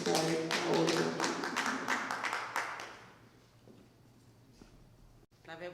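Congregation clapping together in a church at a Sunday service, dense rhythmic applause for a few seconds that fades out, followed by quieter room sound.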